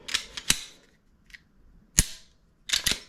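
Several sharp, crisp mechanical clicks from a Ruger RXM pistol's trigger reset snap out in a quiet setting, some in quick pairs, spaced irregularly with short silences between.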